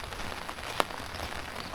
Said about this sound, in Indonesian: Ini hujan-hujan.